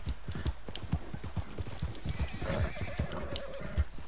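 A wild horse in the Red Dead Redemption 2 video game whinnies and gallops while being tamed, with rapid hoofbeats pounding throughout and a drawn-out neigh rising midway.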